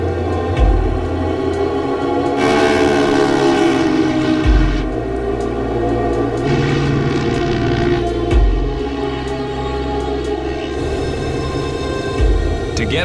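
A Curtiss C-46 aircraft powers up for takeoff from the Buffalo runway on a Mackenzie Valley run, a loud, steady piston-engine drone that swells and holds for the whole stretch.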